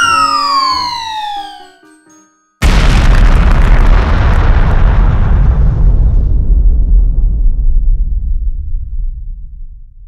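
A huge bomb explosion in a video game, a sudden deafening blast that follows a falling, siren-like whistle and a brief silence, then a long roaring rumble that slowly fades.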